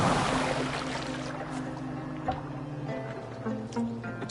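Boat moving across water in Assassin's Creed Valhalla, a steady low hum with soft washing water beneath, continuous and moderately close, with faint tonal ambience layered in and no talking.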